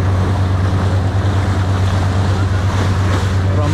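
A boat crosses choppy sea off Trinidad, with a continuous loud roar of engine drone, water rush and wind buffeting the microphone close up.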